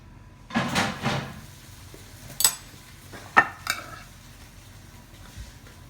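Apples and cranberries being stirred into Brussels sprouts in a pan, giving a few soft scraping and clattering spoon strokes at moderate distance, with quiet gaps between them.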